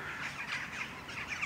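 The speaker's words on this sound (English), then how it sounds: "every now and then you can hear the crows" Crows cawing in an outdoor scene of birds fighting, with smaller birds chasing them: rough, raspy calls repeat several times at moderate distance over a faint background hiss, and no one speaks.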